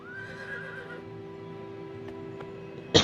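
A horse in the video game The Elder Scrolls IV: Oblivion Remaster whinnies loudly and close with a rising, wavering neigh, then a couple of faint hoof clops and a sudden loud burst at the end.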